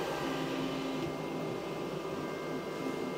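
A Flashforge Adventurer 5M Pro 3D printer running with its door open, nozzle at 220 degrees and bed at 49: a steady mechanical whir and fan hum with faint tonal motor whine, constant and close, no talk.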